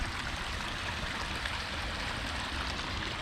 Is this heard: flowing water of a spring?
yes